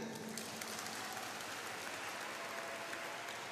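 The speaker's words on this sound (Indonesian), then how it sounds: "Tepuk tangan." Faint, distant audience applause at a speech event at Al Zaytun, a soft continuous patter of many hands without voices.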